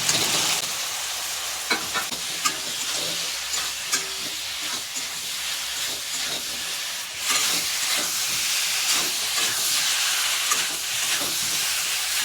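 Potatoes tossed into a cooked-down spice masala for new-potato dum, a loud continuous hissing sizzle with scattered stirring knocks and scrapes up close, no voices.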